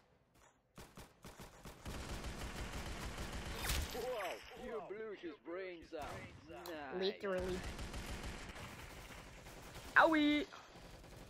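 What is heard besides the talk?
banana assault rifle gunfire in Roblox Arsenal video game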